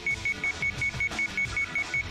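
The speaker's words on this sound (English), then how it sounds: "The words had barely crossed my mind when the alarm began to ring." An alarm rings in the video game Sweet Fuse: At Your Side, a rapid series of about eleven short, evenly spaced high electronic beeps over a soft background.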